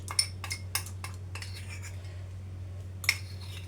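A spoon swirls flour and sugar batter for patisapta in a bowl, making a quick run of light clinks and taps, then a pause and one last sharp clink, all quiet over a low hum.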